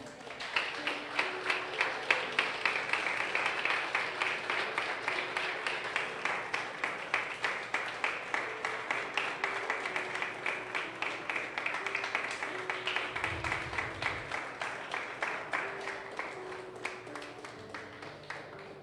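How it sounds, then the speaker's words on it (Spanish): Church congregation clapping in steady rhythm over sustained music, the evenly spaced claps continuing throughout at moderate loudness. "Dale un aplauso al que vive"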